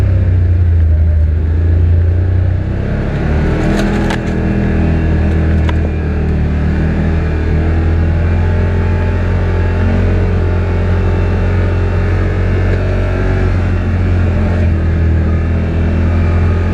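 A 2021 Yamaha Wolverine R MAX 1000 side-by-side drones steadily under throttle while driving, its engine holding a loud, continuous hum with a low rumble and no talking.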